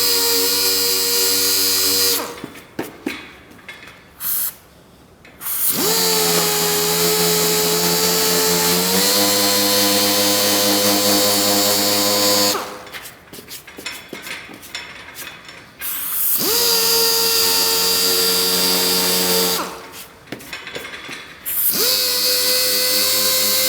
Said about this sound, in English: Probably should do this with a smaller sander, but I'm going to prep this whole area for a blend anyway.